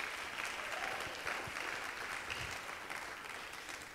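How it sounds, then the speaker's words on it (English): An audience applauds at a high school Project Lead the Way engineering graduation, steady dense clapping filling the room at moderate volume without a break. "so another round of applause for you guys as well."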